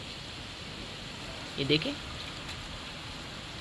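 Heavy rain falls outdoors as a steady, even hiss throughout, with a voice speaking briefly over it partway through.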